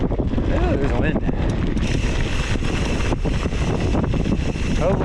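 Wind gusts roar steadily across a mountain bike trail near El Paso, a loud continuous buffeting rush that keeps hitting the microphone for the whole stretch.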